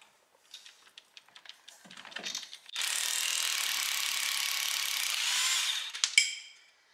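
Impact wrench working on the rust-seized brake bolts of a diesel Volkswagen Golf: a few ratcheting clicks, then a loud, steady close-up buzz of hammering lasting about three seconds, ending in a couple of sharp bursts.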